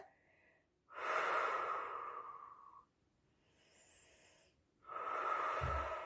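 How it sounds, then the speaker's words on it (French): A person doing a Pilates exercise breathes audibly and close: a long, slightly wheezy inhale or exhale, a quieter pause, then another long breath, alone without talk. "Encore une respiration."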